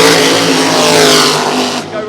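Professional drag racing cars on a drag strip give a loud, harsh roar of acceleration, a dense engine blast sustained for about two seconds before easing slightly.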